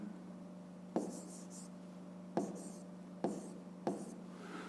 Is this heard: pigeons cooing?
no